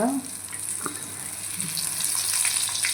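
Large brinjal (eggplant) frying in a pan, giving off a steady close sizzle with faint bubbling and a few light clinks, with no talking over it.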